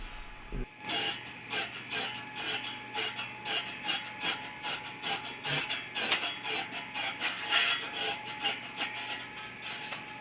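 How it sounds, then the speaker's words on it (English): A hardwood pulley disc gets its edge beveled on a circle jig, giving a continuous, close rasping cutting noise that rises and falls in steady, even strokes. "you can use the same circle jig for cutting this bevel"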